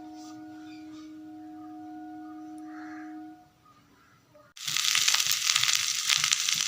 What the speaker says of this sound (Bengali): ফুলকপি রান্না হচ্ছে